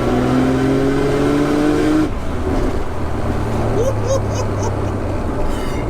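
A Nissan 200SX with a swapped Nissan GTR engine making 530bhp revs with rising pitch, then drops off, leaving a rough idling rumble with faint voices in the background.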